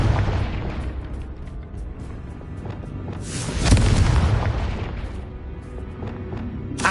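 A Confringo fire spell blasts in the video game Hogwarts Legacy, a loud booming burst that swells midway over continuous game ambience and rumbling effects, with no voices.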